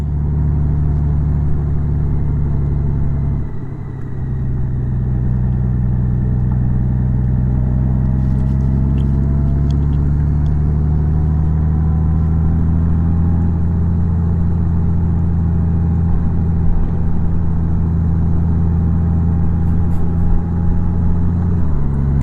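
A car with a DCT transmission climbing a hill, its engine droning steadily and loudly from inside the cabin, pitch rising gradually after a brief dip early on, with no talking.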